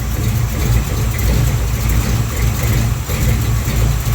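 A 1970 Chevelle engine running roughly at idle on a cold start, a loud close rumble with uneven low pulsing that holds steady throughout.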